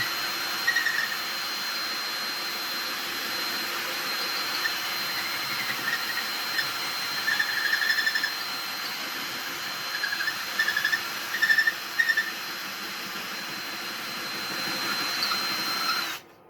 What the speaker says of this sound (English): It's usually just faster to wiggle the drill, though.